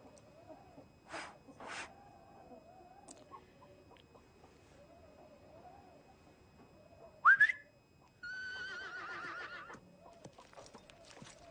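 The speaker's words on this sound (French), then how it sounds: "D'accord, je vais la siffler." A person whistles a sustained, wavering call to bring a mare in on a cattle ranch, heard after a loud nearby whinny, with soft hoof sounds and outdoor ambience throughout.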